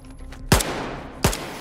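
Two loud gunshots, about three-quarters of a second apart, fired at rats in the video game Stalker 2, each a sharp crack with a brief ringing tail over a quiet in-game background.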